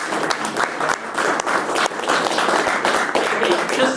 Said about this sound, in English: So let's give a little round of applause for Bob and Zach.